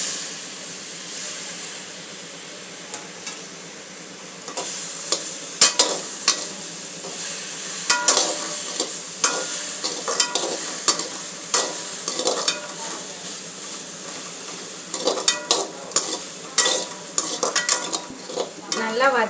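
Onions and tomatoes sauté over a high flame for paneer butter masala: a steady hiss of frying with frequent close scraping and clattering stirs against the pan, no voices.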